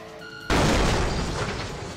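A bomb detonates in Buckshot Roulette (Plunger Roulette), a sudden loud blast that cuts in after a quiet tonal moment and leaves a long, rumbling, slowly fading roar.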